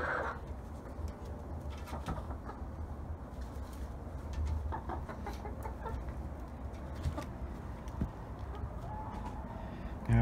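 Salmon Faverolles chickens cluck and coo in a garden run in December, with soft, scattered calls over a steady outdoor background.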